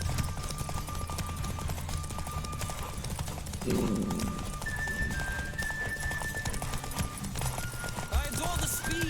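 A horse gallops steadily with rhythmic clip-clop hoofbeats in The Witcher video game, under game music and a voice talking over it.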